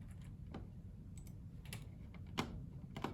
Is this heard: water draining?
no